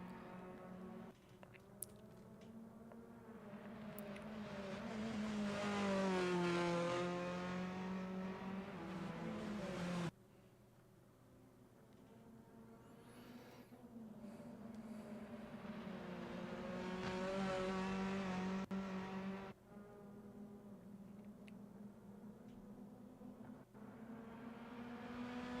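Touring cars racing on the final lap in a Touring Car World Tour event, engines rising in pitch as they rev and sweep past in two long passes with gear-change cuts, fairly close and loud, no talk.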